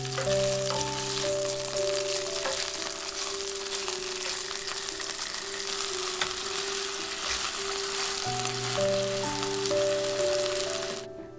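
Chicken thigh steaks pan-fry in a hot pan, giving a continuous bright sizzle and crackle that holds steady throughout, with soft background music.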